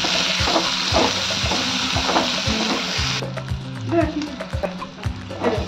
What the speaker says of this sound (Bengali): গ্রিন ক্যাপসিকাম আর লাল ক্যাপসিকাম। এগুলো হালকা করে একটু ভেজে নেব।